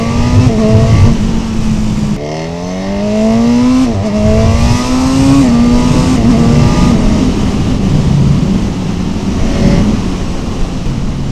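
A Honda CB1000 Hornet SP naked motorcycle accelerating hard through the gears, its loud, close engine note climbing in pitch with sharp drops at each upshift, heard alone with no talk.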